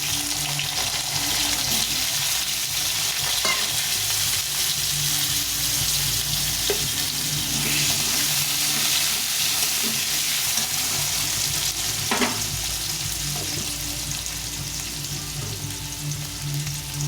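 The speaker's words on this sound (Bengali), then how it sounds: "দিয়ে প্রথমে আলুগুলোকে ভেজে নেব।" Potato pieces fry in hot oil with dried red chilli, white cumin and two bay leaves, making a continuous loud sizzle with occasional clinks and stirring scrapes throughout, and no talking.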